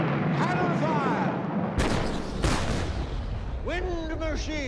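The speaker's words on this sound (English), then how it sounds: "Cannon fire!" Loud booming blasts like cannon fire in a stage battle from a comedy episode, set against a musical backdrop with a sung chorus before and after the heavy crashes.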